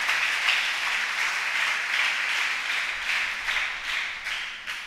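Church congregation clapping hands together in steady, dense applause that holds for the whole stretch, fairly close and continuous, with no voices over it.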